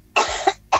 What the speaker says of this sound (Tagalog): Ang cute ng pag-ubo.